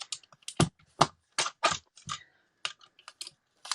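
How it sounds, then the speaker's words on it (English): A paper trimmer slices through cardstock while a Stampin' Up! card is being made, giving a quick run of crisp, close clicks and short scraping strokes with no talking. "I can bring in my trimmer again"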